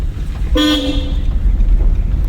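A single car horn blast from a driving-school car, held for just under a second, loud over steady engine and road rumble.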